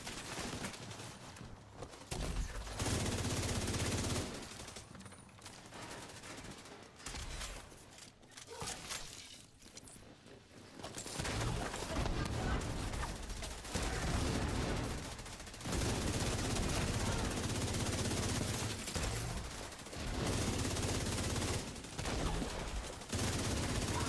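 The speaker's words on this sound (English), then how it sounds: "y'all see the Lexington just ripping these guys?" Lexington rifle in The Division 2 game firing in long rapid automatic bursts, loud cracking volleys separated by short quieter gaps.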